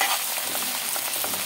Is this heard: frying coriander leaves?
yes